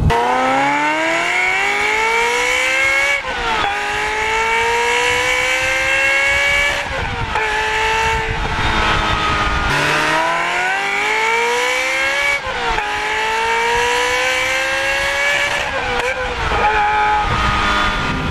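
A Ferrari 355 Berlinetta engine revs hard and close, its pitch climbing repeatedly through gear changes above 4,000 to 5,000 RPM in a loud, continuous high-revving wail.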